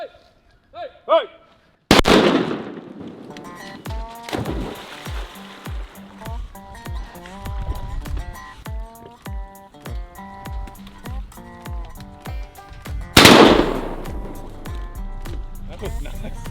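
During a duck hunt in an Arkansas slough, two loud, sharp shotgun blasts ring out several seconds apart amid splashing and excited shouting voices.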